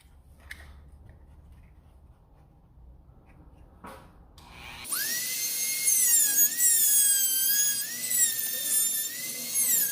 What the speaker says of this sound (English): Let me put the blade back on, we'll cut a little bit more.